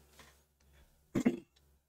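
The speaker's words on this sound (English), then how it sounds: "I'm trying to clear my throat because I'm talking too much" A person clears their throat once, a short rough burst after a brief pause amid faint background noise, with no speech.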